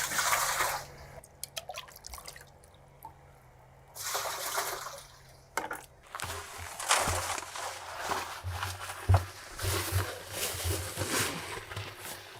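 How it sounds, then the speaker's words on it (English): Water for mixing concrete is poured into a bucket in bursts, a gushing splash that starts and stops, then settles into a longer sloshing pour with scattered knocks and handling noises. "let's put 3 quarts of water in here"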